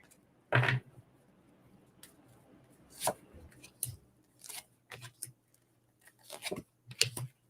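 Tarot cards are shuffled in separate bursts of riffling and snapping, close and fairly quiet, spread across several seconds with gaps of near silence between them.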